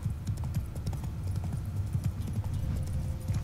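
Horse hooves in the video game The Witcher 3 clip-clop in a brisk, steady walking rhythm, close and clear, with no voices over them.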